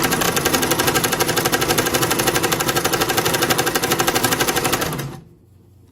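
Sewing machine stitching at steady speed with the pedal pressed, a loud close rapid mechanical chatter running evenly for about five seconds before stopping abruptly.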